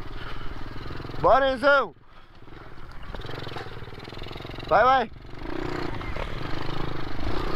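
A strong mini motorbike revs in bursts, two rising-and-falling whines near 1.5 and 5 seconds, close and loud over a rumbling idle, while a young voice shouts encouragement.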